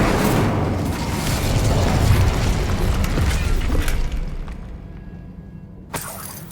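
An Incendio fire spell in Hogwarts Legacy bursts with a loud crackling, roaring whoosh that fades over several seconds, followed by a brief sharp sound near the end.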